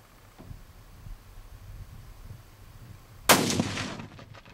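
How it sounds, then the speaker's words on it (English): A single gunshot hits a ballistic wall model filled with dirt from the shooting site, a sharp loud crack with a short rumbling tail that comes after several seconds of quiet outdoor ambience. "Now we'll be shooting the second ballistic model, and that one is filled with the dirt that we found here on the shooting site"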